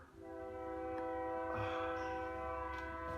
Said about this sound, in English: And you're right close to the train. I mean, you get to hear that every single day.